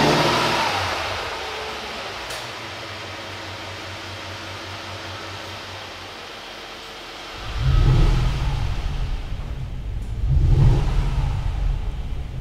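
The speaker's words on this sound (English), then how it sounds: "If you select it to sport mode, you can hear a rumble of the engine, because Hofele integrated a new exhaust sound in the sport mode." A Mercedes GLS 580 with a Hofele V8 and sport-mode exhaust hums at a quiet idle for several seconds, then gives two deep, booming revs that rise and fade, heard close without talking.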